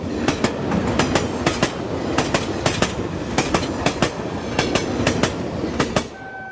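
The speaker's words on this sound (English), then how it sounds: "my father travels on the late evening train" Train travelling along the tracks in the late evening, wheels clicking over rail joints in a steady clickety-clack rhythm with a continuous rumble beneath, moderately loud and ending in a brief higher squeal.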